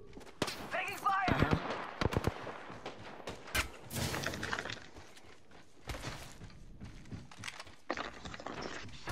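Video game gunfire crackles in bursts of shots and rapid automatic fire, mixed with thuds and footsteps, while players talk over the action.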